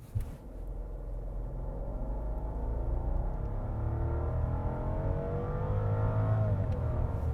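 A 2023 Rolls-Royce Phantom Series II with a twin-turbo 6.75-litre V12 pulls away from a standstill. From inside the cabin, a smooth, steady low rumble rises gradually in pitch as the car gains speed, with no voices.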